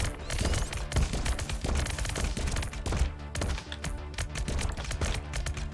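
Boss and turret gunfire in the sci-fi horde shooter Core Devourer, a dense, continuous rattle of rapid shots layered over thumping game music and effects, steady and loud throughout.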